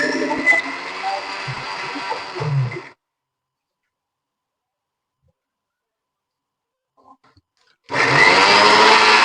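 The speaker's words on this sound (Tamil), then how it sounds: "3 பச்சை மிளகா போட்டு கூட கொஞ்சம் கடலப்பருப்பு மிக்சியில் அரைச்சிட்டோம்னா" A kitchen mixer grinder whirring loudly as it grinds three green chillies with chana dal for banana flower vada, running in two bursts separated by a long silence.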